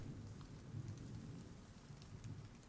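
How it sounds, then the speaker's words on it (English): Rain falls outside a building during a storm in the Silent Hill 2 remake, with thunder, a steady, soft hiss and patter over a low continuous rumble, distant and without talk. "you can hear the rain falling outside."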